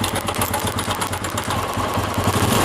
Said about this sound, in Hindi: थोड़ा सा टेढ़ी करके बाइक को स्टार्ट कर लेते हैं।